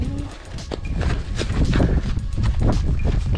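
Clip-clopping horse hooves in a video game at a steady walking rhythm, fairly close, with a faint background of ambient noise.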